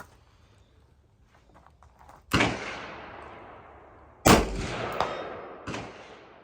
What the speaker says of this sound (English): the report of that 20-inch gun is significant